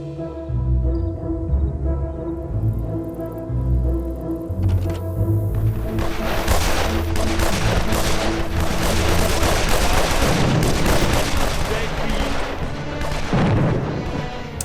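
Bazooka blasts and gunfire from the video game Evil Genius, a henchman fighting ten veteran soldiers: dense, loud bursts of shots and booms that build after a quieter start and stay continuous to the end.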